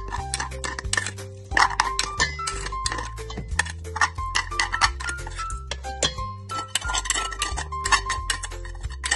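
A utensil clinks and scrapes against a pot while sticky rice is stirred for puto maya. The taps and knocks are irregular and close, and a steady low hum sits beneath them.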